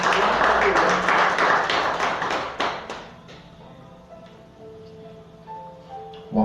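A church congregation applauding, with dense clapping at first that thins out and fades after about three seconds, leaving quieter sound and some faint tones.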